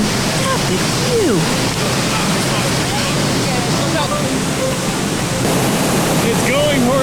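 A Yosemite waterfall roaring below, heard as a loud, steady broadband rush mixed with wind buffeting on the microphone, while faint voices drift in and out over it.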